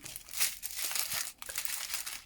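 Small plastic bags of diamond painting stones, about 200 per bag and joined in a strip, crinkle continuously up close with a busy, rustling texture and a few sharper crackles, with no talk.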